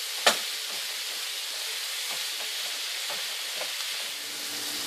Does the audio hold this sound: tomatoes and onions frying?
yes